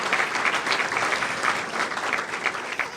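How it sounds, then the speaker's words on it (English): A room full of people applauds for an alderman at a civic gathering, moderately loud, with clapping bursts pulsing unevenly throughout. "let's give a round of applause to Alderman Gabinski, 32nd Ward"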